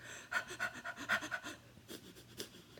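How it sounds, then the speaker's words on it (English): Rapid, forceful breathing in and out through the nose, a quick rhythmic run of about a dozen sharp, close huffing breaths that slows slightly toward the end, with no talking. "continue this rapid, forceful breathing as you inhale and exhale through your nose"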